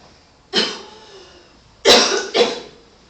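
Harsh reflex coughing triggered by pressing the suprasternal notch: one cough, a pause, then two quick coughs close together, near and loud.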